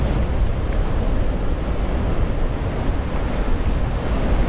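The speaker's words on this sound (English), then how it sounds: "The ocean is so angry. You can tell that it's going to be a stormy day." Stormy ocean waves crash along a coast in a continuous, loud roar of surf, with wind noise mixed in and no voices.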